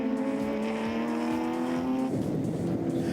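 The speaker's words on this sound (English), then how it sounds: "Powering up the hill to Sassel, and Anton Raths moves up alongside Neil Reinecker" Ford Capri and Escort racing cars powering uphill during a race, engines roaring loudly and continuously at high revs, with a pitch drop near the end as one car passes close by.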